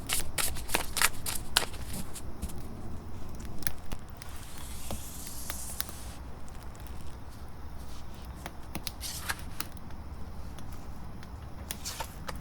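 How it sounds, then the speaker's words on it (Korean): Tarot cards shuffled and drawn by hand at close range: a fast burst of riffling clicks at the start, a sustained swish, then sparse cards slapped and flicked down, with no talking. "다른 카드도 다 뽑아 볼게요"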